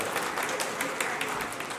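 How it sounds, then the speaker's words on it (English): Audience applause at a talk, a dense continuous burst of many hands clapping at steady loudness throughout. "give yourselves a round of applause."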